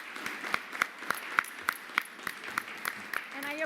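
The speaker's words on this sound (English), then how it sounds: "okay, round of applause for the panelists." Steady, evenly spaced claps from a modest audience honor panelists at a housing training and policy conference, the rhythmic smacks ringing through a hall for several seconds at moderate loudness.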